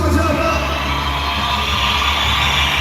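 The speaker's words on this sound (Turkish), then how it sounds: "Türk sporcu çıkarken bu kadar mı alkış duyuyoruz?" A dense roar of a large crowd cheering and applauding, loud and sustained throughout, with indistinct voices mixed into the din.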